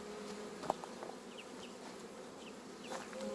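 Honeybees hum around a hive during feeding, a soft, steady buzz with a few brief louder passes and faint clicks close by.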